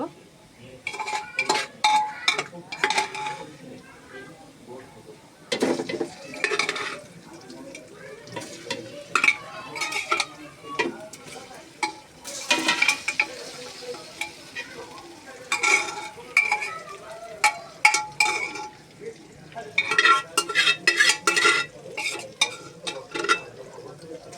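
Cooked goat meat is stirred into fried onions in a pot for goat biryani, with loud bursts of scraping and clanking spoon strokes over a low sizzle, separated by quieter pauses.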